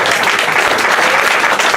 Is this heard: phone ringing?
no